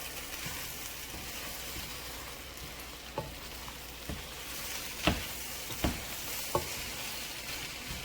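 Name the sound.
rice stir-fry sizzling and being stirred in a pan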